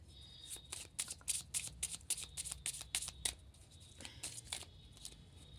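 Tarot cards are shuffled by hand close up, in quick papery riffling bursts and flicks that run in a fast rhythm, pause briefly, then resume for a few more snaps.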